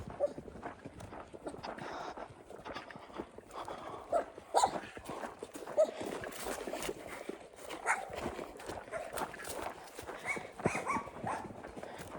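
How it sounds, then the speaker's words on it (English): Dogs walk along a hiking trail near a lake, soft scattered footfalls and rustling up close, fairly faint against quiet outdoor ambience. "We have some dogs hiking today."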